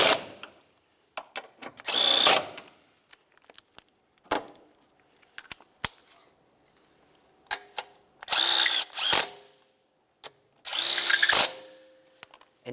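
Power drill driving bolts on a 2011-2018 Volkswagen Jetta while fitting a timing belt tensioner: several loud whirring bursts of a few seconds each, with small clicks and clatters of tools in between and no talk.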